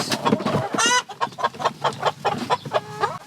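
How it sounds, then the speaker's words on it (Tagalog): Free-range chickens cluck in a close, busy burst of repeated short calls with a brief higher squawk, loud and without talk. "The chickens!"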